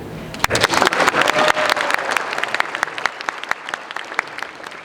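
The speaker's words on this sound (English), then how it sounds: "Why don't you go ahead and clap right there." An audience bursts into loud, lively applause, many hands clapping together before thinning out to scattered claps.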